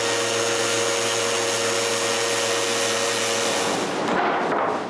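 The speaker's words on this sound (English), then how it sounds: "Then I need to, yet again, sand this smoother." Wooden boards for a nine-drawer dresser are sanded smooth, producing a loud, continuous machine whir that holds steady before easing off near the end, with no talking.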